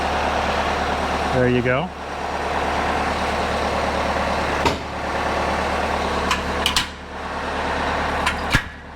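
A Kubota LX3310 tractor's diesel engine idles with a steady low drone while backing in, close by, with a brief spoken remark, a few clunks and a short rising whine over the hum.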